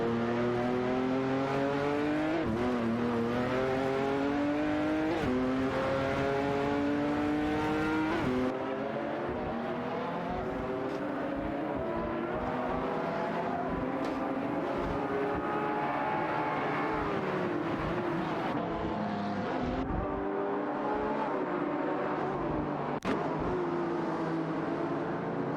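Race cars sweep past in a racing video game, including a Maserati and McLaren 500s in a pack contesting 12th place, with rising and falling engine whines layered over one another, loud and continuous with no talk.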